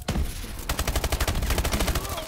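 Call of Duty: Advanced Warfare automatic weapon firing a loud, rapid stream of evenly spaced shots close up, after a brief reload-like clatter at the start, with no voices.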